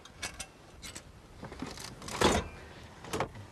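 A fully mechanical 1940s arcade machine with no electricity makes whirring, clicks and ratcheting in short bursts, close and fairly quiet, with a louder clattering burst partway through.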